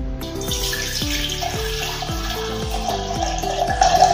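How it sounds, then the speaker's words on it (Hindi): Water poured into a vessel of rice to wash it for rice papad, a steady close gurgling stream with a resonant, rising filling tone. "ये पानी इसमें डाल देंगे"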